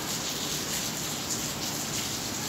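Summer rainfall, a soft, steady hiss of rain pattering on surfaces, even and continuous at moderate distance with no voices.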